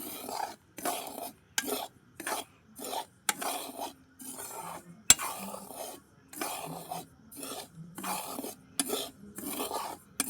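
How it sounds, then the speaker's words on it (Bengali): Rhythmic scraping of a spatula stirring semolina as it is lightly roasted in a hot pan, repeated strokes in steady bursts with brief pauses, close and fairly quiet. "এবার সুজিটা একটু নাড়াচাড়া করে দেবো। একটু হালকাভাবে ভেজে নেব সুজিটা"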